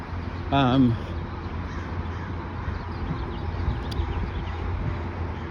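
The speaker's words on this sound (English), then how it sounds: "Ooh, I think that's a hawk." A single bird of prey, taken to be a hawk, calls once with a short, strained, descending cry. It is moderately near and sounds over a steady outdoor background hiss. The rest of the stretch is ambient noise with no further calls.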